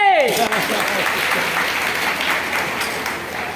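An audience at a public talk breaks into loud, continuous clapping right after a brief voiced sound at the start, a thick crowd texture that stays steady throughout.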